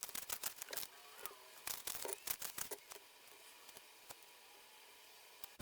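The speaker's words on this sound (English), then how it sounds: "So I'm going to shuffle some tarot cards and see what else comes out." Tarot cards are shuffled nearby in quick, crisp bursts of riffling and flicking, quieter taps trailing off toward the end, with no talking.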